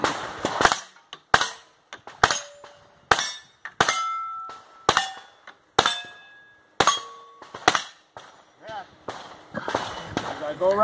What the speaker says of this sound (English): this thing really blows out shit in your face when you're shooting this side